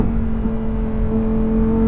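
Inside a Lamborghini Huracan Tecnica with its 632 bhp V10, the engine holds a loud, steady, tonal drone at high revs without pause, and no voices are heard.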